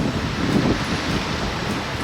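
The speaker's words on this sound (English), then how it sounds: "Oh, it's so windy." Strong wind in St. Louis buffets a nearby microphone, a steady broadband roar with gusty swells and no voices.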